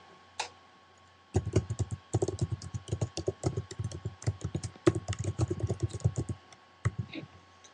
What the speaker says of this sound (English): and then you would put in your email.